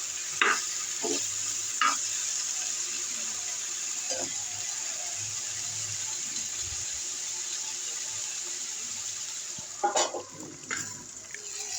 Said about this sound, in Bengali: সব কিছু দিয়ে নেড়ে চেড়ে ভালো মতো করে এটা আমি ভেজে নিব